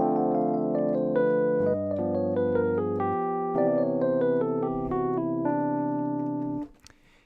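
Sustained chords over a ii-V-I progression with a quick bebop scale line running over them, changing harmony every couple of seconds before cutting off, clean and close with no voices.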